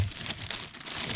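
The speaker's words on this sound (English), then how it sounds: "So it comes in the plastic, which is easily removed." A GoPro HERO7 Black box has its plastic wrap pulled off, giving a brief, quiet crinkle and rustle that lasts about a second.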